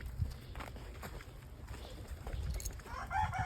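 Backyard farm chickens at feeding time, a mix of hens and roosters, clucking and calling at moderate distance over a steady outdoor background, with a person speaking nearby.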